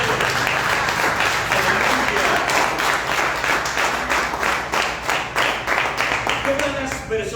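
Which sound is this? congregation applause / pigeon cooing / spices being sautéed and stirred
congregation applause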